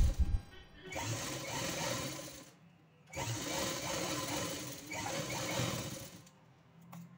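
A sewing machine stitches pleats into a shawl in quick, rattling bursts, close by, running about two seconds at a time with short pauses between runs.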